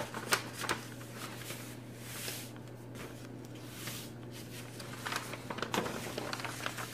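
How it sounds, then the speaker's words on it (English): Close, soft crinkling and rustling of origami paper being folded in half, with scattered crisp creases and brushing sounds over a low steady hum. "And then fold the paper in half."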